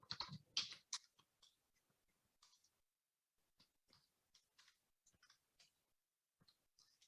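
Keys tap on a computer keyboard in irregular bursts, a cluster of quick close clicks at first, then sparse single keystrokes with pauses, fairly faint in a quiet room.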